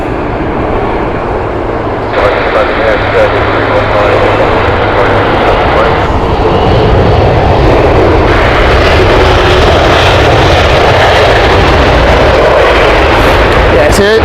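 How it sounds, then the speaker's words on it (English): An Air Serbia Airbus A319 jet bound for Belgrade produces a loud, sustained engine roar at Heathrow Airport, the rumble shifting and intensifying over about fourteen seconds. "This is the Belgrade flight with Airbus A319."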